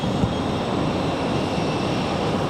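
An airplane takes off from runway 5 left at Raleigh-Durham International Airport, heard as a steady, loud broadband engine roar that holds evenly throughout with no voices.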